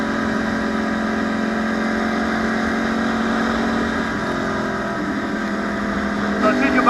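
A 2014 Yamaha YZF-R1 1000cc supersport motorcycle cruises with a steady, loud engine drone and wind rush, its tone rising slightly near the end as it pulls harder.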